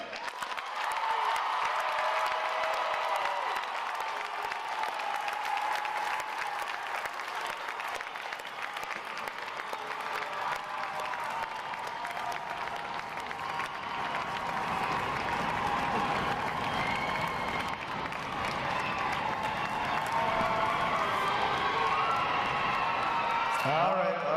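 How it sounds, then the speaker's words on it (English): Sustained applause and cheering from a large crowd at a U.S. Navy boot camp graduation, with loud clapping and shouts filling the space for over twenty seconds, some voices talking within the din. "Let's then give a round of applause to the 9 other graduating divisions here today."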